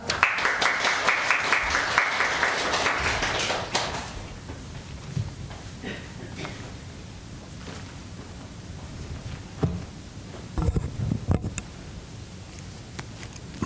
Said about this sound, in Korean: 우리 박수로 맞이하시면 감사하겠습니다